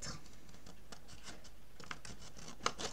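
Scissors cut paper and thin cardboard at an angle, giving a soft, continuous crisp rasp with small snips and scratches, close and quiet, with no voices.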